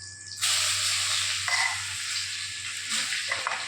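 Whole cloves and cumin seeds with chopped garlic hit hot oil in a wok, bursting into a loud, steady sizzle that flares again as more goes in, continuous and close with no talking.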